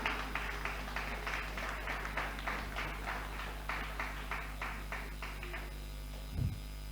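An audience at a Ghana Police community meeting with the Zongo community claps in a steady, rhythmic run of applause for several seconds, moderately near, over a constant electrical hum, and then it fades out.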